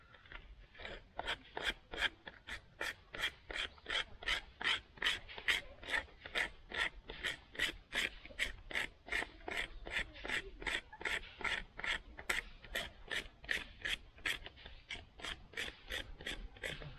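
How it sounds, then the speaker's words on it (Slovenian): A Dark Blades survival knife cuts with steady, evenly spaced rasping strokes, about two per second, close and fairly loud throughout with no voices. "Nož res lepo reže."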